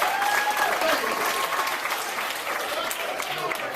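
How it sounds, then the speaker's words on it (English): A studio audience at a talk show claps hands in a dense, steady burst of applause that fills the room, fairly loud and sustained throughout with no break. "Clap your hands."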